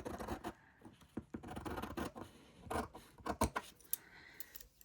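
Scissors cut a thin strip from the top of a paper file folder. The close, quiet snips and scraping rubs come in irregular bursts with short pauses between strokes.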